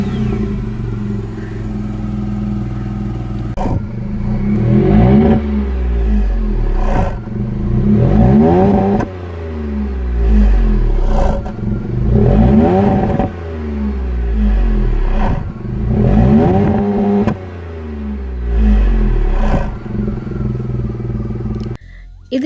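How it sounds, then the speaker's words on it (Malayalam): Tata Tiago JTP hatchback engine revving repeatedly with a sporty exhaust note, several loud rising roars spaced a few seconds apart, each dropping back toward idle, close and prominent. "അതിൻ്റെ ഫലമായി നല്ലൊരു സ്പോർട്ടി എക്സോസ്റ്റ് നോട്ടാണ് വാഹനം പുറത്തെടുക്കുന്നത്"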